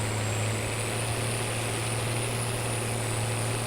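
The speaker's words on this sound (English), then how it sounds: "this tractor really does, it does take everything it's got to do this job" A tractor engine in the Farming Simulator 22 video game strains under heavy load, giving a steady, loud, constant drone with no pauses, alone with no talking.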